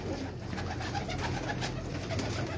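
Pigeons of Kamangar, Golden and Kasuri breeds coo steadily on a Karachi rooftop loft, a dense, continuous murmur of overlapping calls close by with little pause.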